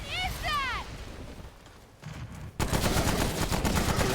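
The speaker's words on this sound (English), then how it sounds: "This is an SMG." Rapid SMG fire in Remnant: From the Ashes, a dense burst of shots starting partway through and continuing to the end, loud and steady, preceded by chirping game effects.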